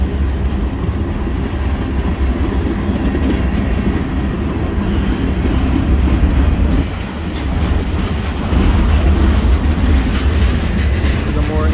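A long freight train pulled by a single BNSF EMD SD40-2 diesel locomotive rolls past close by in Galesburg, Illinois, a loud continuous rumble with rhythmic clanking of wheels over rail joints throughout.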